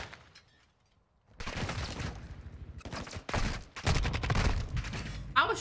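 Gunfire in Call of Duty Modern Warfare 2 arrives as loud, dense bursts of rapid automatic shots that break up into choppy volleys and follow a short quiet lull, with a voice talking faintly underneath.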